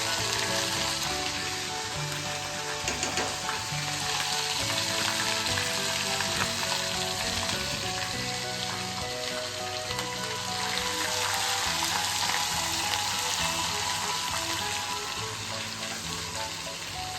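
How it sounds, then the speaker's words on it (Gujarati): Vada pav masala spices sizzle in hot oil in a home kitchen, a dense, continuous crackling fry with occasional stirring, close and steady throughout. "મસાલો વઘારે છે ને વડાપાવનો?"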